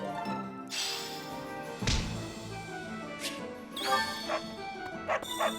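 A dog barks in the video game Fire Emblem: Three Houses, several sharp yips and barks spread across a few seconds, loud and close with faint game sounds around them.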